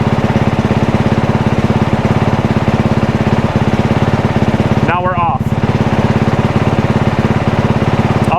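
A race engine idles loud and close in a steady, rapid pulsing drone with a short dip partway through, and a voice speaks briefly over it.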